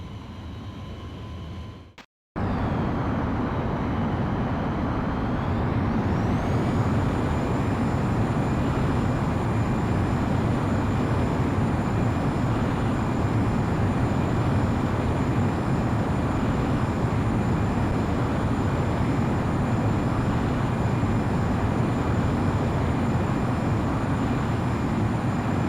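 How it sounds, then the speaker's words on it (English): A jet aircraft in Ace Combat X roars up after a brief gap into a loud, sustained takeoff rumble with a rising whine, steady and close, without talk. "You are cleared for takeoff."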